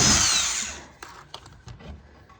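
A power drill unscrews a screw from an old furniture piece, whirring briefly at the start and then winding down. Several light clicks and knocks follow as the piece is handled.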